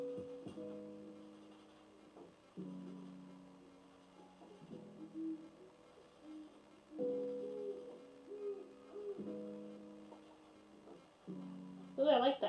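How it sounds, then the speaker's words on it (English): An owl hoots in a series of low, tonal calls repeating every couple of seconds, moderately faint against a quiet background, with a brief brighter sound at the very end. "Ooh, I like the owl noises."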